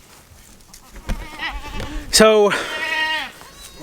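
Mother goats bleat beside a stock tank, with a couple of loud, wavering bleats close by, the strongest one sharp and drawn out, while someone speaks briefly over them.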